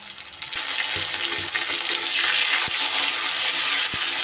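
Ginger and green chilli paste hits potatoes frying in hot oil, giving a loud, steady sizzle with occasional sharp clicks and scrapes from stirring. No one speaks.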